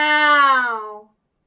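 A singing teacher's voice imitates a cat meow as a breath-support exercise: one sustained, bright, tonal meow about a second long that slides gently downward and fades out, followed by silence.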